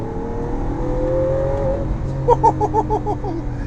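A Lamborghini Aventador's V12 pulls hard in third gear on the road, its engine note climbing smoothly before a rapid burst of stuttering pops and crackles, heard loud from inside the car.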